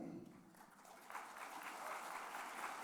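Audience at a Nehemiah Action community assembly applauds as guests are called forward, the clapping swelling partway through and holding steady at a moderate, slightly distant level.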